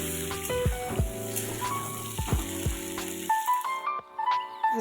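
Oil sizzles softly in a pan as potatoes fry, with light scraping and clinking of a utensil stirring, no voices.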